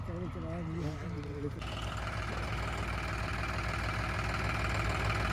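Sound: John Deere 5055 tractor engine running

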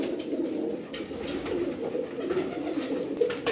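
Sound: pigeons cooing

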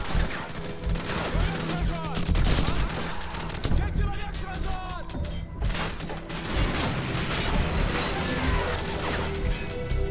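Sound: gunfire in a video game

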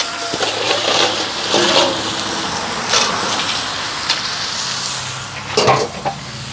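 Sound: crab being cooked in curry in a pot over an outdoor fire

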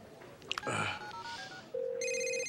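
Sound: telephone ringing after dialing a call

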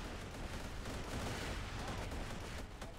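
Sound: grenade explosions in video game

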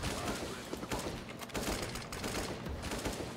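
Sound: AK rifle gunfire in video game Counter-Strike (CS:GO)

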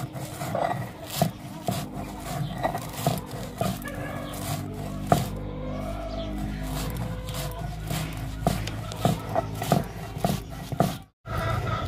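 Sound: spices being ground on a silbatta grinding stone

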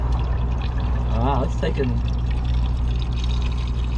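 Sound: spring water being poured into RV

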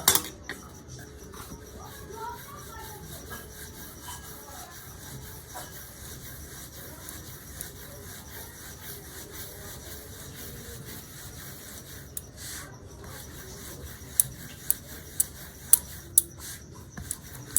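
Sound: rolling semolina dough balls into flat rounds

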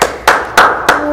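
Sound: audience applause

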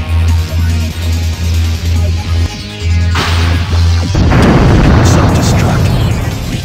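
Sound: self-destruct explosion in Sonic Heroes video game

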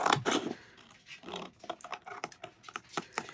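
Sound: scissors cutting around vinyl on a plate

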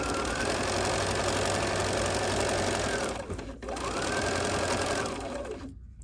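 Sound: Bernina sewing machine stitching forward and in reverse

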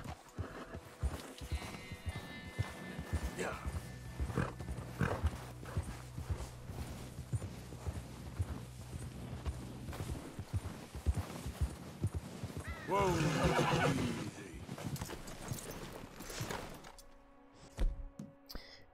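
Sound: Arabian horse galloping and neighing, video game Red Dead Redemption 2

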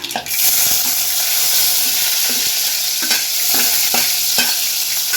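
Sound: onion sizzling in hot oil with popped mustard seeds

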